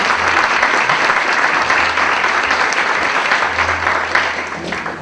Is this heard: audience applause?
yes